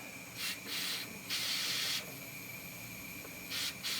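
Compressed air sprays in short hissing bursts onto a GM air suspension part coated in soapy window cleaner, close by, with several separate blasts and a longer one in the middle.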